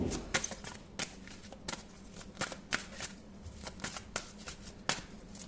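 Tarot cards shuffled by hand during a reading, a string of crisp riffling flicks and soft slaps repeating irregularly, fairly close and alone without talk.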